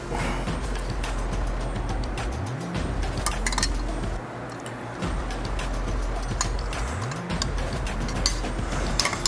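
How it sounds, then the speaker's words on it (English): Wrench work on the air cleaner bolts of a 2022 Harley-Davidson Road Glide ST yields scattered metallic clinks and ratchet clicks beneath a steady mechanical hum, with a few rising whirs; fairly close and continuous. "you've got to get back behind there and tighten those bolts down"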